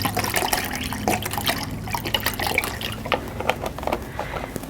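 Broth poured into a pot for red pepper soup, a steady splashing, trickling stream of liquid, fairly close and loud, with no one talking over it.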